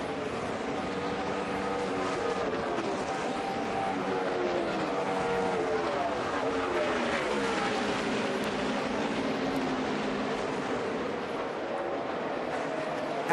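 NASCAR Sprint Cup stock cars race the final lap at Homestead, a dense continuous engine roar with layered pitches rising and falling as the pack passes.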